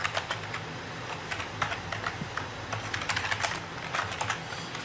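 Rapid typing on a computer keyboard while numbers are entered into a running mobile business app, a steady stream of close, crisp key clicks with no talking.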